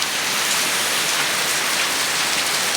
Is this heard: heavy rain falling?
yes